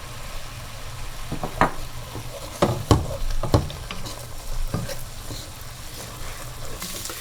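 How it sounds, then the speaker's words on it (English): Spinach stew ingredients sauteing in oil in a pan, a soft continuous sizzle broken by several sharp knocks and scrapes of a utensil stirring, close and without talk. "we're gonna saute this about like a 10-15 more minutes"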